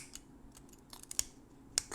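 An X-Acto knife snipping the leads of a chip on an Arduino Nano clone circuit board one at a time, producing quiet, sharp clicks scattered irregularly over a faint background.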